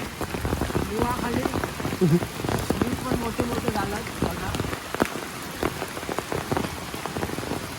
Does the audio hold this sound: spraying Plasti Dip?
no